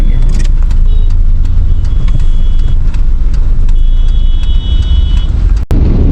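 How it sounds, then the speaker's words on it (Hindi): Road traffic crawling in a jam on the way to Nainital after heavy rain, a loud, constant rumble of engines and tyres close by, with a few faint high beeps or horn tones. "और यहाँ तो जाम लग रहा है"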